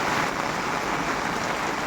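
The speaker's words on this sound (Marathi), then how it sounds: "पाऊस काय कमी जायत नाही" Heavy monsoon rain pours steadily in the Konkan region, a dense, even wash of hiss that stays close and unbroken for the whole moment, with no voices over it.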